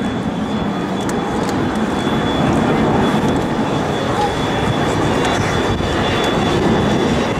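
An AV-8B Harrier II jet roars past at about 600 miles an hour with a loud, steady broadband rush and a faint high whine, continuous throughout.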